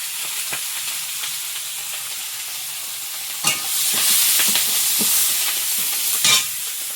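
Chopped onion and garlic sizzle in hot oil in a home kitchen, a steady bright hiss broken by sharp stirring scrapes, growing louder midway.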